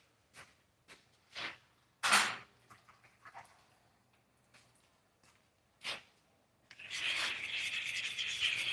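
Blade rubbed across the coarse side of a hockey-puck sharpening stone, heard as scattered short scraping strokes in a quiet room, then a longer, louder continuous grinding rasp near the end.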